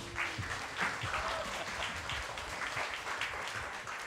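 Applause from the audience at a music academy open day, moderately distant and steady, with faint voices mixed in.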